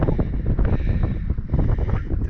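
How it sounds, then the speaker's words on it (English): Strong wind buffets the microphone in a constant low roar, steady and close for a couple of seconds with no voices. "Real windy up here."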